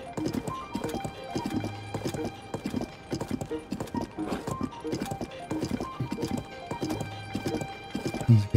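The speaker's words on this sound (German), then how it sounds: "Das Pferd findet alleine den Weg." Horse hooves in the video game The Legend of Zelda: Tears of the Kingdom clip-clop in a steady walking rhythm, close and clear, with a brief snort near the end.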